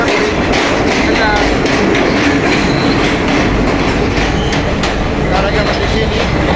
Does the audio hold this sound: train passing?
yes